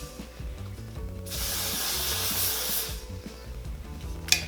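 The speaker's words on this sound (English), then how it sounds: "And then using the Amika anti-humidity spray all over." Amika anti-humidity hair spray hisses out in one steady burst of about a second and a half, close and fairly loud, over faint background music.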